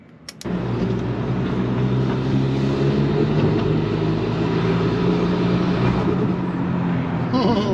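A Volkswagen Golf GTD Mk6 with a 2.0 TDI diesel pulls hard after a quick click, its engine drone swelling loud and steady with a gradually rising pitch.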